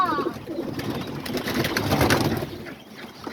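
A flock of pigeons cooing outdoors at a feeding spot, overlapping soft throaty coos forming a busy continuous murmur with rustling and faint background noise.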